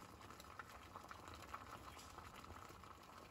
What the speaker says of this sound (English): Our water is still boiling.